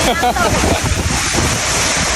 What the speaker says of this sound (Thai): ลมแรงมากเลยอะพายุฮอริเคนเข้าแน่